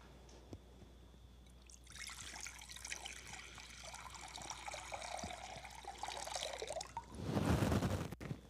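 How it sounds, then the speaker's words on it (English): Running water is poured in a quiet church, starting as a soft trickle and splash that goes on for several seconds, then swells into a fuller, louder gush near the end. "When you hear running water, the message is that you belong."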